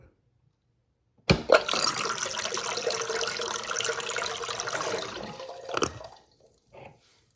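A space saver toilet flushing cinnamon from its bowl: a sudden loud rush of water that swirls for about four seconds, then a gurgling drain and faint trickling refill, close up in a quiet room.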